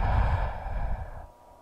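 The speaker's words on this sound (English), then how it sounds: "why are you breathing so loud" A heavy, loud exhale close to the ear, a long breathy sigh that trails off and drops to near silence at the end.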